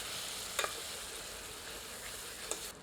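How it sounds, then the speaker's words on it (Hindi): Masala sizzles steadily in a pan while cooking for egg nihari, with a soft continuous frying hiss and two brief, light scrapes of a ladle against the pan bottom. "करछी की सहायता से रगड़कर तली पर चिपका हुआ मसाला हटा लें।"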